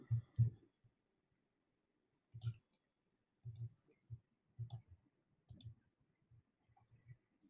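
A computer mouse clicks the add button in SAP Business One, giving faint, close, isolated soft clicks. They come in small irregular groups with silence between them.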